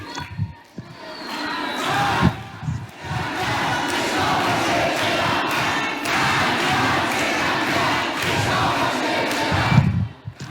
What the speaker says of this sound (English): The crowd is chanting down with the oppressor, be it Shah or be the leader.